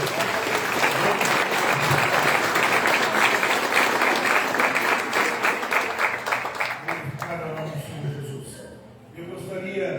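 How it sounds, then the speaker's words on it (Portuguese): A church congregation applauds with loud, dense, sustained clapping that gradually thins out and fades near the end, leaving quieter room sound. "aplaudamos o Senhor Jesus pela vida do servo de Deus"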